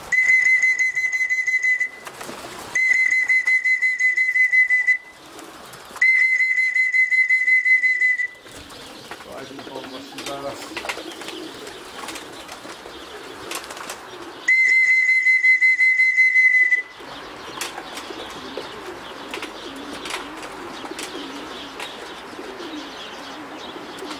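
Racing pigeons coo at a club loft during a winter race arrival. Their soft calls come between repeated long, shrill whistle blasts used to call the birds in.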